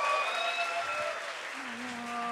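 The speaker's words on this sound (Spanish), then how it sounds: "Un aplauso, por favor." A live comedy show audience at the Lunario applauds, a dense, steady wash of clapping that fills the whole moment at close range, with faint tonal sounds lingering underneath.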